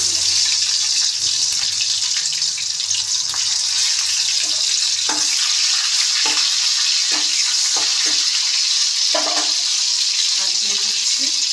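Onions fry in oil in a pan with a loud, steady broadband hiss. Occasional soft knocks and clinks of stirring sound close by.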